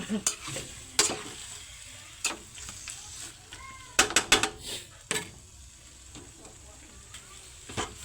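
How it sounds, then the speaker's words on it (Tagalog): Ingredients for squid adobo being sautéed in a pan: intermittent sharp clanks and scrapes of a utensil against the pan, stirring over a faint, steady sizzle, with a few quiet gaps between strokes. "Ayan, gisa muna natin."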